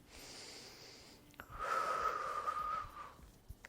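Heavy breathing during a running-focused strengthening workout: a soft exhale, then a longer, louder breath with a faint wheezy whistle, close and quiet with no speech.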